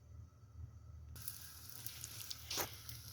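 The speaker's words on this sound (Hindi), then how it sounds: "अच्छा जी, देखें पराठा मैंने ऊपर तवे के डाल दिया।" A potato paratha dropped onto a hot tawa, a quiet hum giving way abruptly to a steady close hiss and sizzle that swells briefly with a crackling burst.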